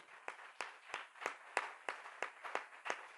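About ten sharp claps land on an even, steady beat, fairly quiet and in unison, like a church congregation clapping together.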